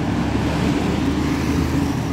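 Street traffic in Phuket, Thailand, where cars and people share one road with no proper sidewalk, makes a close, continuous engine rumble and roadway hum through two seconds without speech.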